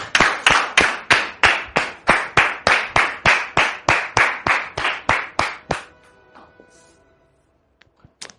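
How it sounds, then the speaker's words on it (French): An audience welcoming a guest onto a stage claps in steady unison, with loud, evenly spaced beats for several seconds before the rhythm stops and the room falls nearly silent, leaving a few faint knocks. "Merci de le recevoir sous vos applaudissements"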